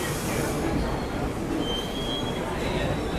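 A train runs on rails with a steady, loud rumble and a thin wheel squeal rising above it, the noise continuous and close throughout.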